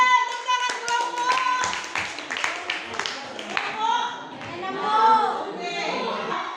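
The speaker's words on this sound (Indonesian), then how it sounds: "tepuk tangan kelompok" A group of children in a classroom clapping hands together in a quick rhythmic burst, with a teacher's voice and kids talking over and between the claps.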